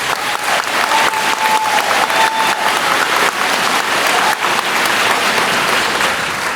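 Loud, dense applause from an audience at a sixth grade promotion ceremony, continuous clapping filling the room without pause for several seconds.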